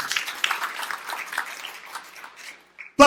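Church congregation applauds in a brief burst of clapping that fades out after a couple of seconds, followed by a short sharp sound at the end.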